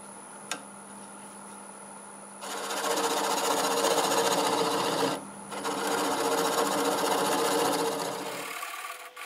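A wood lathe tool cuts the nub off a cherry bowl with a loud, rough, sustained scraping roar in two long passes split by a brief pause, over a faint running hum that ends abruptly.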